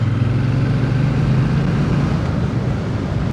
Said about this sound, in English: I'm hoping you can hear that engine note now, and that's with stock exhaust as well.